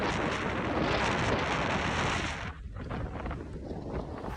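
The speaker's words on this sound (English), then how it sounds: "it's very windy" Strong wind buffeting the microphone during a cycling training ride, a loud roaring rush that dips briefly partway through and then continues, with no talk.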